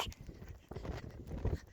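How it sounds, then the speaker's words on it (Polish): A horse's hooves clop softly and unevenly on a slippery, muddy forest trail while ridden off the path. The steps are faint and close, under rustling and movement noise. "Super koń!"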